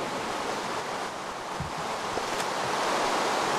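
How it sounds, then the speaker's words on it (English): Rain falling in the Minecraft video game, near the Far Lands; a steady, even hiss of rainfall plays alone at moderate level, with a couple of soft low thumps partway through. "I think it's raining, but the rain isn't visible"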